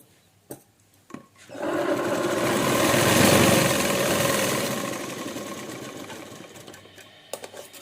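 Close, loud sewing machine stitching a pleat on a lined blouse: a few clicks of setup, then one continuous whirring run of about six seconds that eases off toward the end, with no speech.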